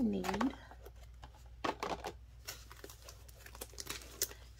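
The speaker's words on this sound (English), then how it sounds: "We will get out our envelopes that we need." Paper cash-stuffing envelopes being handled, soft crinkling and rustling with light taps and shuffles, close and quiet, after a brief voice at the start.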